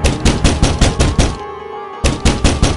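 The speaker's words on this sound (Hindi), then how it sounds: "और तभी दरवाजे पर कोई दस्तक देता है।" Heavy knocking on a door in a horror story, a run of loud, evenly spaced blows that stop for about half a second and then resume with the same steady rhythm.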